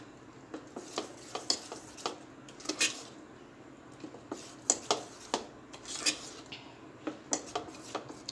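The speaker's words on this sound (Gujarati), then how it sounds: "હવે બધું સરસ મિક્સ કરી લઈશું।" A spoon stirs dhokla batter of gram flour, salt and oil in a bowl, giving a run of close, sharp clinks and scrapes against the sides in an uneven rhythm over a soft wet squish.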